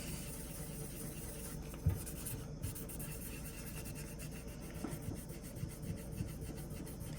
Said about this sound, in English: Going to take some scrubbing.